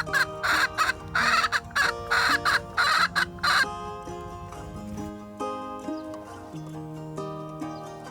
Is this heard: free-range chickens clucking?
yes